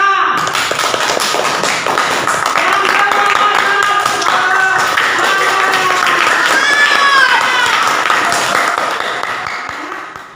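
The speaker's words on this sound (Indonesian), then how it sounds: "kita beri aplaus untuk kita semua" A classroom group in a teaching-practice lesson claps together in a dense, steady burst of applause lasting about ten seconds, mixed with excited voices and cheers, before fading out at the end.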